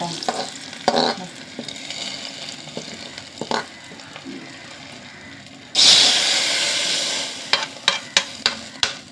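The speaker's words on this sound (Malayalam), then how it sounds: "ഉള്ളി നന്നായി മൂത്ത് വരണം നമ്മുടെ ഉള്ളി മൂത്ത് വന്നു" Onions fry in a pan under scattered stirring clatters and a low sizzle. Midway a loud, sustained hiss erupts and lingers, then a few sharp spoon knocks tap against the pan.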